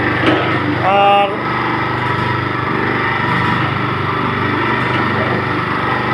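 A screw oil expeller machine cold-pressing mustard seeds runs with a steady, dense mechanical drone, joined briefly near the start by a thin rising whine, then continuing evenly and loud throughout.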